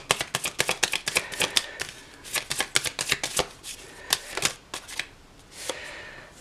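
A Tattoo Tarot deck being shuffled by hand: rapid, crisp card riffles and flicks in quick bursts with brief pauses, close and clear, with no talking.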